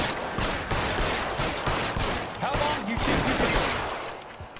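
Gunfire in the video game L.A. Noire, dense bursts of rapid shots rattling continuously, with some voices mixed under the shooting.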